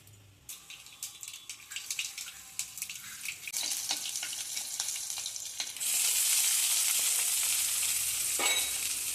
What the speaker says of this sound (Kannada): ಸಾಸಿವೆ, ಜೀರಿಗೆ ಅದೆಲ್ಲ ಚಟಪಟಿ ಸಿಡುವಾಗ